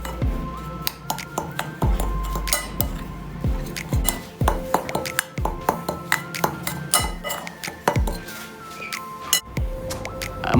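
Puttu flour being mixed with ground coriander leaves in a bowl for green rainbow puttu, with frequent clinks and scrapes of a spoon against the bowl, close and steady.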